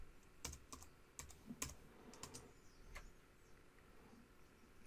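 Typing on a computer keyboard: several faint, distinct key clicks in an irregular rhythm against a quiet room background, with no talk.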